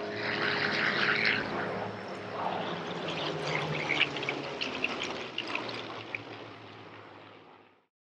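Engines of military and vintage aircraft drone in a steady, fairly loud roar that holds, then fades away to silence near the end.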